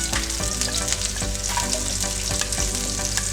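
Onions frying in a pan, a continuous close sizzle and crackle punctuated by regular scraping taps of a utensil stirring, with no voices.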